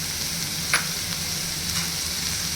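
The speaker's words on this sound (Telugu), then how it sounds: "ఈ విధంగా ఉల్లిపాయలు బాగా వేగితే టేస్ట్ బాగా వస్తుంది." Chopped onions frying in a pan with chillies and ginger garlic paste for an egg fry, giving a steady close sizzle with a few faint stirring scrapes and no talk.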